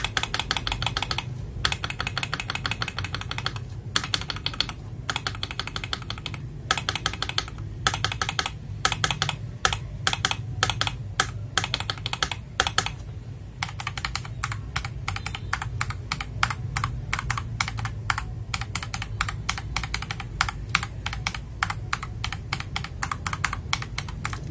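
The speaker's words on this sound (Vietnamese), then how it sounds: "Đây là âm thanh của keyboard nha các bạn." Rapid typing on an FL Esports MK870 mechanical keyboard fitted with Tiger switches and matcha keycaps, a close, crisp stream of key clicks in bursts and fast runs, with no talking.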